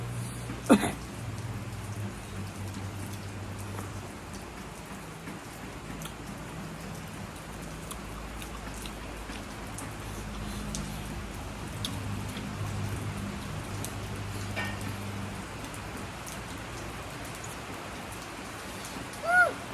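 Steady rain falls outdoors around an open-air kitchen spot where Shan-style chili dip with fish is being eaten, a continuous soft patter of drops with a few louder close taps on a surface, no talking.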